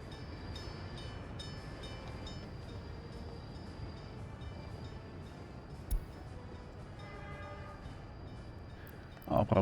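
A train in the video game Workers & Resources rumbles steadily on the line at moderate level, with a brief clank near the end and a louder burst of rolling noise closing out.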